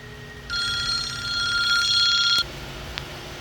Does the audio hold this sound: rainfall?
no